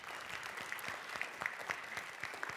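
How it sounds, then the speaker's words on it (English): An audience at a 2018 innovation summit workshop claps in a steady, fairly faint round of applause, a dense patter of many hands with no voices over it. "give them a round of applause for that."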